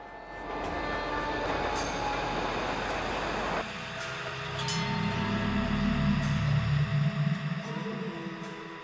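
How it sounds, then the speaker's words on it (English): A train in Grand Theft Auto V rumbles past with a low, steady roar that shifts abruptly midway into a heavier, pulsing clatter as the player's vehicle strikes it, continuing loud and close without speech. "I'll just hit the train."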